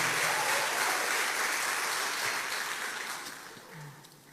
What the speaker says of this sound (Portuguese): Eu queria que você desse um forte aplauso para Jesus